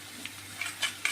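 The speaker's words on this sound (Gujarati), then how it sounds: "આ બધાને બરાબર સાંતળવાનું" Spices being sautéed in hot oil for chevdo, with curry leaves and chillies crisping in the pan; soft sizzling with a few brief stirring scrapes, close and fairly quiet.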